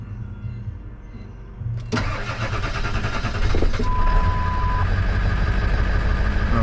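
A 2000 Ford F-250 pickup engine cranks briefly after quiet key-on chimes, then catches and settles into a steady, close idle with a short tone sounding midway.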